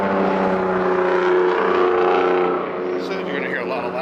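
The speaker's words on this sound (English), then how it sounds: "So you're gonna hear a lot of loud cars." Loud cars on a busy highway-like road in Phoenix rumble and whoosh past one after another near the roadside. The traffic noise is steady and continuous.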